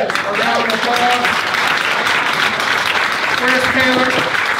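An alumni event audience at a skyline venue breaks into a loud round of applause, close and dense, with cheering and a few voices calling out over the clapping.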